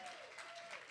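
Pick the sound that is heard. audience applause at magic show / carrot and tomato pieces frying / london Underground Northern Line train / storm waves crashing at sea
audience applause at magic show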